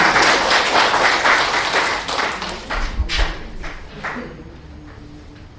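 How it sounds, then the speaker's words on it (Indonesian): A church congregation bursts into loud, dense clapping that gradually thins and fades over several seconds, ending in a few scattered claps. "Tepuk tangan cuma satu."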